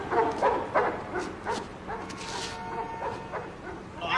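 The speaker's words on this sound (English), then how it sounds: "Oh, that's a big dog." A big chained dog barks and yips several times at a short distance, in quick bursts over a busy background with people talking.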